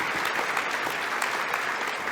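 An audience at an inauguration ceremony claps for a volunteer, a dense, steady burst of applause lasting a couple of seconds.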